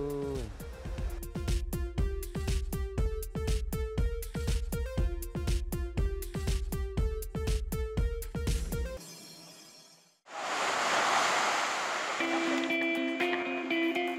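Ocean waves at a surf spot on Ayoke Island roll in as a steady, loud wash of surf, following several seconds of rhythmic music that cuts out before the water noise takes over.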